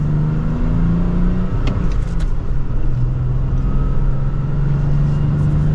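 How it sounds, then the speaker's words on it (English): A 2023 Toyota Tacoma TRD Offroad with a six-speed manual gearbox accelerates gently on the road, its engine a steady, loud, low hum from inside the cab that barely rises in pitch. "let's do another minor acceleration for this."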